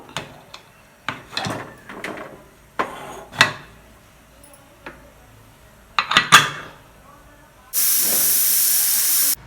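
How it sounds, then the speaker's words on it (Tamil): Pots and lids clatter in a few sharp knocks, then a pressure cooker cooking goat leg soup lets out a loud, sustained high-pitched steam whistle. "ஒரு பத்து விசில் விட்டுக்கலாம்"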